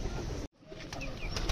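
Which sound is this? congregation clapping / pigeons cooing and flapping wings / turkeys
pigeons cooing and flapping wings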